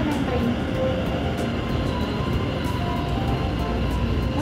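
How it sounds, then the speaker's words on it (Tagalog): A Taoyuan Airport MRT train rumbles steadily nearby, a loud continuous roar of wheels and motor with no breaks. "Dito na yung train."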